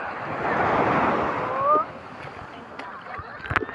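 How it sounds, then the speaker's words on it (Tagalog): Ocean surf at a beach in La Union rushes in as a wave, a loud washing swell over the first two seconds that fades to quieter water and wind with a few faint knocks. "Ayan na yung alon."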